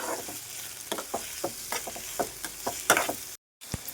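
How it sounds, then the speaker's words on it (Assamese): Onions and panch phoron fry in hot oil, giving a steady sizzle broken by frequent sharp clicks and stirring scrapes, close and fairly quiet, with a brief dropout near the end. "তেলটো গৰম হোৱাৰ লগে লগে ইয়াত দি দিছোঁ মই দুটামান পাঁচফোৰণ আৰু পিঁয়াজখিনি এনেকৈ ভাজি থাকিম"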